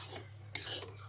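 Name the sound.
stirring semiya upma in a pan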